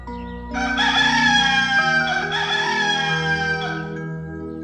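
A rooster crows once, a long loud cock-a-doodle-doo close by, with no other sounds around it.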